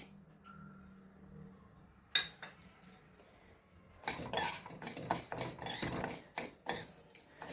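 Urad dal tipped into oil in a small pan, a sharp clink of a spoon followed by busy scraping, rattling stirs and light sizzling, close and moderately quiet.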